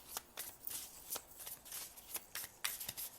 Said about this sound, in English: So let me shuffle this a few times